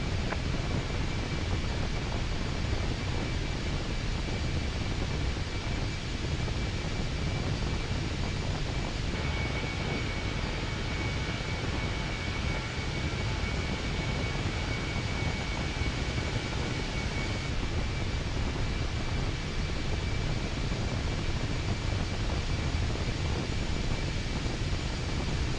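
Steady, continuous roar of an Airbus A320 rolling down the runway for takeoff in Microsoft Flight Simulator 2024, broad and unchanging engine and wind noise filling the whole stretch with no talk.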